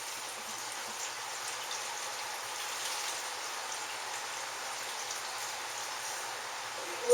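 Water pours steadily into a pot of chicken stock ingredients with peppercorns and fresh thyme, making a continuous soft splashing hiss. It stays even from start to finish, with no talking.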